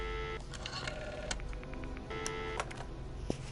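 A phone keypad in the Friday the 13th Virtual Cabin video game gives a run of short, evenly spaced dialing beeps over a steady hum, followed by a few scattered tones.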